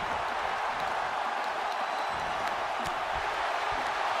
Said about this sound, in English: the crowd is losing it